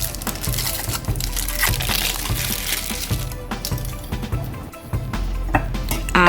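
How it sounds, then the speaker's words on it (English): Hot water pours steadily into a bowl for melting raspberry chocolate, a loud continuous splashing and trickling stream with small crunchy knocks, filling close by with no one speaking. "Add some hot water to a bowl to melt the chocolate."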